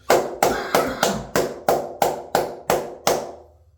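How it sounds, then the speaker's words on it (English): Ten crisp, close hand claps from a Dolphins fan, evenly paced and alone, the last one ringing out into quiet. "Round of applause to you"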